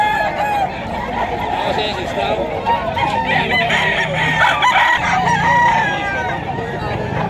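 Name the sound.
rooster crowing at a pet market (lemon cock, Black Spartan)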